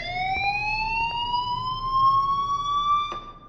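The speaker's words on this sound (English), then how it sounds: "Do you hear that fire alarm?" A fire alarm in the Life Is Strange video game gives one long, steady electronic tone that slowly rises in pitch, loud and alone, with a couple of faint clicks in the background.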